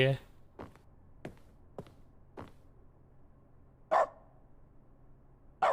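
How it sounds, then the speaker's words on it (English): Short sharp dog barks in The Stanley Parable video game, a handful of separate yaps spaced irregularly over quiet room tone, with a couple of louder bursts near the end. "that's a dog."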